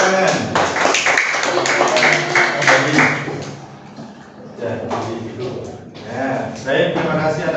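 Students in a classroom clap for the winners after a prize giving, a burst of applause mixed with a teacher's voice and children talking, fading partway through before more scattered claps.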